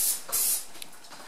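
Primer sprayed from a can onto an engine intake manifold: two short close bursts of hissing spray, then a fainter hiss trailing off.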